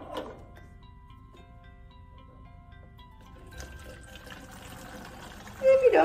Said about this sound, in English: Take your bottle you're using and fill it a third of the way with water.